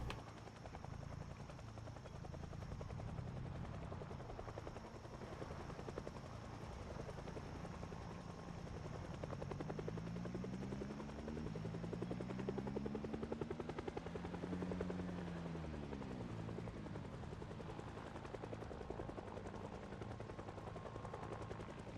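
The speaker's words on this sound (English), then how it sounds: "This helicopter is lasting forever." Helicopter from a Project Zomboid helicopter event, a continuous rapid rotor chop that rises in pitch and loudness as it passes overhead and then fades. It drones steadily throughout, with a faint high whine.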